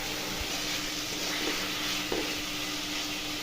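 Fried potatoes being sautéed in oily spice paste for chhanar dalna, a soft steady sizzle with occasional stirring scrapes in the pan.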